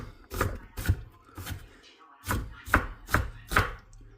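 A knife chops an onion on a cutting board for turkey soup, a series of about eight sharp, evenly spaced thuds, close and clear, with a brief pause midway.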